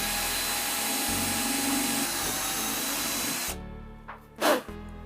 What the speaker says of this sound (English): Now I just drill out the holes.